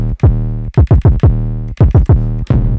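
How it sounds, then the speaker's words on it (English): Heavy 808 bass patch made in the Serum synth for a trap remake, loud and booming, played as a short run of punchy sliding notes with no other sounds. "The 808 we're going to be showing you guys how to make today sounds like this."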